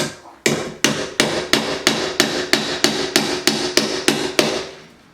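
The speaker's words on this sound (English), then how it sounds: "let me get my hammer out" A hammer strikes about a dozen times at a steady, even pace, each blow sharp and ringing, close and loud with no talking.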